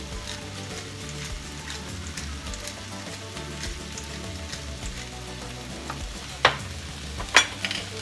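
Stirring empanada filling of potatoes seasoned with pink Himalayan salt in a frying pan, a steady low sizzle with soft scraping throughout and two sharp clinks of the utensil near the end.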